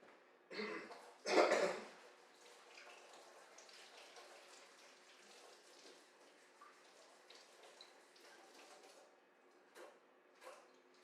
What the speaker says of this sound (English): now I got my spinach and I'm gonna wash these